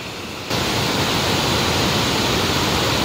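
Water rushes steadily through the stream at Gundicha Ghagi waterfall, a dense, continuous hiss that starts abruptly after a brief quiet moment and stays loud and even throughout.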